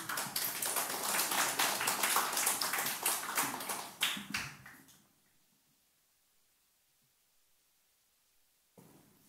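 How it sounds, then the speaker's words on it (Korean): A church congregation claps to welcome a speaker, dense applause lasting about four seconds, then fading into near silence with a faint sound at the very end. "우리 박수로 환영하도록 하겠습니다."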